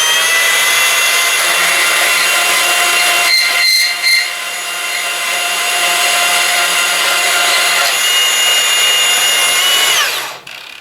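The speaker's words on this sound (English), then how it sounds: "Bit simpler than a hacksaw. Well, that's all it is, a hacksaw." A powered hacksaw cuts metal at a workbench, giving a steady, loud mechanical drone with a whining tone that runs for about ten seconds, dips briefly near the start, then winds down and stops at the end.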